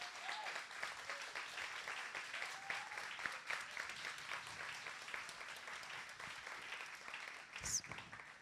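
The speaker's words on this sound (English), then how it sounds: "I want to give you a round of applause" Board members at a spring showcase event receive sustained audience applause, an even, continuous patter of many hands at moderate distance, with faint voices mixed in.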